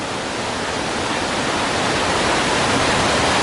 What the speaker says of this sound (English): Wow, that is a lot of water.